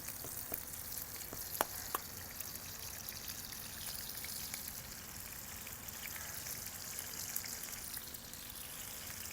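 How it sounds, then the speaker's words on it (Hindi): Green chilies frying in a pan for breakfast, a faint, steady sizzle and crackle with a few small pops and clicks near the start. "यहाँ पे मिर्चें हमारी जो है ना फ्राई हो रही हैं"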